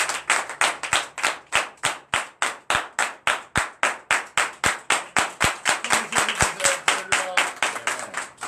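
A church congregation at a Sunday worship service in Benin claps in unison, a steady rhythmic beat of about three claps per second, loud and close, continuing throughout.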